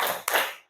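A group claps a short patterned cheer-clap, two close bursts of hand claps with a brief gap between, fairly close and loud.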